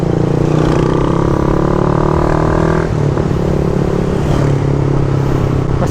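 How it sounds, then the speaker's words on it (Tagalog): Suzuki Raider 150 FI motorcycle fitted with a Leo power pipe exhaust, held at low RPM on a road test, gives a loud, close, continuous rumbling drone with a slight shift in pitch partway through. "Yan, ibababad natin sa low RPM para makita talaga natin."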